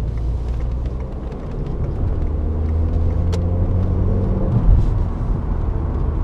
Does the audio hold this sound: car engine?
yes